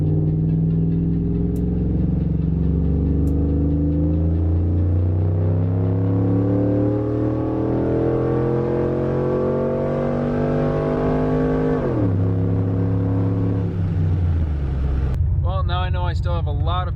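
A car nicknamed Goldie Hawn, still being tuned with a new wideband air/fuel gauge fitted, pulls hard at full throttle, its engine note climbing steadily through the revs before a shift and a second rising pull, loud and close throughout.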